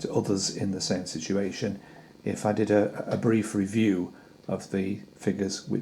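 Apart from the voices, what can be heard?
No everyday noise stands out behind the speech.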